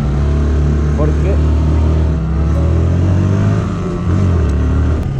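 Motorcycle engine running loud and close while riding on a roadside highway, a steady droning rumble with slight revving shifts, and someone talks over it.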